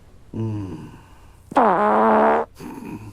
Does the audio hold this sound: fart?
yes